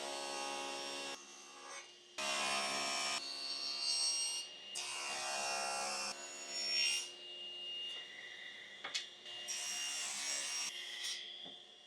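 A maple table leaf being cut in a workshop: several bursts of rasping, sawing noise that stop and start, with short quiet gaps between passes.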